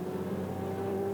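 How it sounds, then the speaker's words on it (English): Race cars in a GT series at Manfield run through the back section toward the hairpin, giving a steady, distant engine drone with a sustained tonal hum and no break. "There's the next group of cars just going through the back of the shot through to the hairpin"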